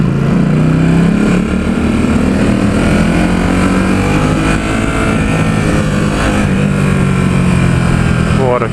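A 2017 Ducati SuperSport S being ridden around San Francisco, its engine droning loud and steady with wind rush and a rising rev near the end, while a rider talks over it.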